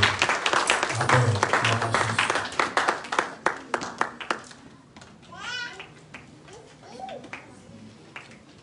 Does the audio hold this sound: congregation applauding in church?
yes